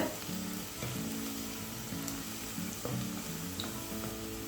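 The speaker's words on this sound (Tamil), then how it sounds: "ஆனியன் வந்து நல்லா ப்ரௌன் ஆகிற வரைக்கும் நம்ம குக் பண்ண விடலாம்" Onions frying in a pan until browned for mushroom biryani, a steady close sizzle running throughout with a few soft clinks of a spoon stirring, no voices.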